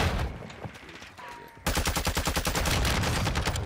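M4 SMG firing in Call of Duty Warzone: after a quieter stretch of distant game noise, a loud, fast automatic burst kicks in suddenly and rattles on steadily to the end.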